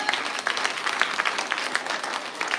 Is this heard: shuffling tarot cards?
no